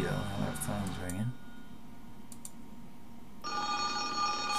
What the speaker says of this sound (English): Now that phone's ringing.